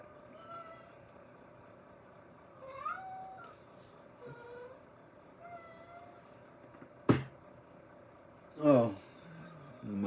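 A cat meows a few times indoors, the calls short and moderately loud against a quiet room with faint background sounds, including one sharp knock partway through.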